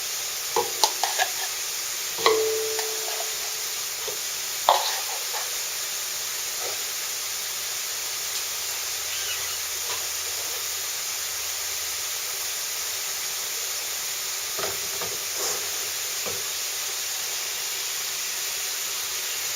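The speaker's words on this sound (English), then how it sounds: "I'm going to fry this until that cooks off" Meat fries in oil in a pan for chili with a soft, steady hiss. A few sharp clinks of stirring come early on, and no one speaks.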